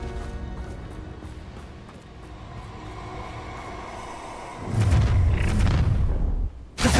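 Confringo blasting spell going off in Hogwarts Legacy: a low droning ambience abruptly gives way to a loud, broad explosive boom that rumbles for about two seconds, followed by a sharp final burst.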